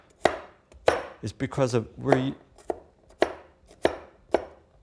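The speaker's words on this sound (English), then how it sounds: "The cleaver is good for chopping, slicing" A cleaver chops beef on a board for a stir fry: about eight sharp, crisp knocks in an uneven rhythm, close and fairly loud, with someone talking briefly between the middle chops.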